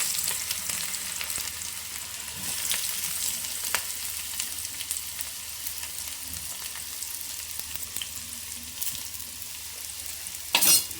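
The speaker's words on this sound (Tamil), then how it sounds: "உள்ளியை போட்டு நல்லா வதக்கிக்கலாம்." Chopped onions sautéing in hot oil with popped mustard seeds while vegetable masala for thosai is prepared, a steady close sizzle with stirring scrapes throughout, louder clatter near the end, no voices.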